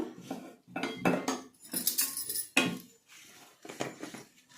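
A spoon stirs a beetroot decoction for hair dye in a bowl, clinking repeatedly against the sides in quick, uneven bursts, close and fairly loud, with no talk.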